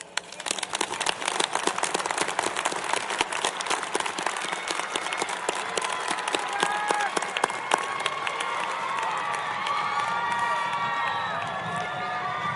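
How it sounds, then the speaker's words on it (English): A large crowd at the U.S. Air Force Academy commencement breaks into sustained loud applause, dense clapping with some cheering that holds for over twelve seconds. "let's give them a huge round of applause."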